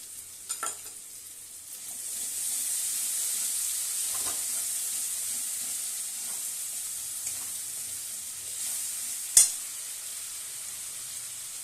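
Masala with whisked yogurt sautéing in oil in a pan, with a little sugar added, while cooking chhana kofta curry: a steady soft sizzle runs throughout, with a few stirring scrapes and one sharper clink near the end.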